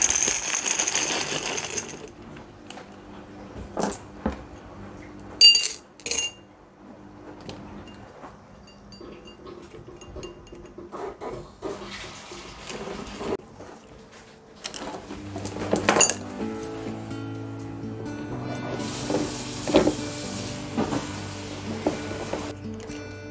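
Stones being dropped into a glass container for growing snake plants in water: repeated hard clinks and rattling clatters in clusters, close and fairly loud, separated by quieter handling pauses.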